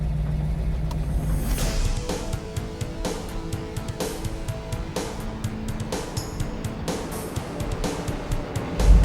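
A 1970 Ford Torino Cobra with a 429 engine runs steadily, giving a continuous low rumble with a few sharper transients throughout and a slight swell at the very end.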